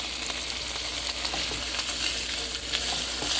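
Chicken frying in olive oil in a pan on a stove at medium heat, giving a steady, close, continuous sizzle with crackling pops and no talking.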